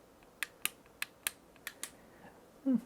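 A series of sharp, crisp LED flashlight button clicks, about seven in an uneven rhythm, close and quiet, followed by a short soft noise at the end.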